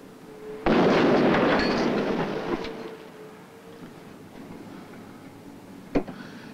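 An explosion in an earthquake demonstration booms suddenly and loudly, then a rumbling roar slowly fades over a few seconds, followed later by a brief sharp knock.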